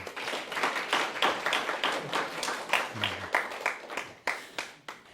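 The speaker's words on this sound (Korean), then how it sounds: "박수로 한번 환영" Applause greets a guest at a church service, a crowd of hands clapping in pulsing waves that swell and ease several times, fairly loud and close, with a brief murmur of voices underneath.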